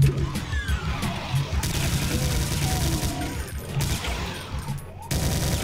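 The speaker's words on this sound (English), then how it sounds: "you can keep shooting the guys after they're dead" Gunfire in the Brutal DOOM gore mod for classic DOOM, a dense, continuous barrage of rapid shots and crashing impacts, loud and steady for several seconds, with no talking.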